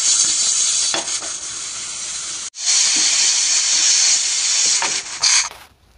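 A pressure cooker steaming amla (Indian gooseberries) without water lets out a loud, continuous steam whistle and hiss close by, cutting off briefly once before resuming and then fading at the end, with no talking.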